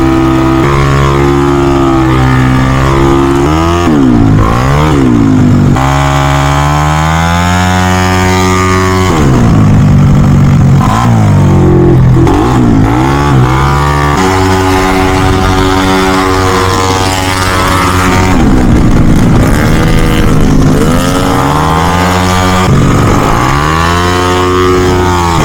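A racing engine revs hard at high RPM in an SGP race, its loud, buzzy whine sweeping up and down in repeated surges and shifts, close and continuous throughout.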